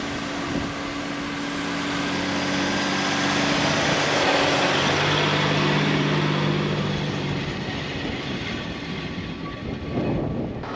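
A 4WD vehicle drives out through soft beach sand at Ningaloo, its engine droning loudly and steadily with a strained low hum, swelling in the middle and easing toward the end, with wind noise throughout.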